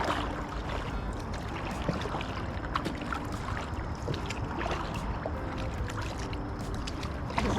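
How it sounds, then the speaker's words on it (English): An inflatable boat is paddled on a lake, giving a close, continuous wash of water swishes and splashes with light wind noise, and no talk. "This is paddling."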